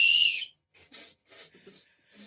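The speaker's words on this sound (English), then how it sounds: "I'm going to blow the whistle for me." A whistle is blown once in a loud, sustained high blast during a church sermon, followed by quieter scattered rustling and faint sounds.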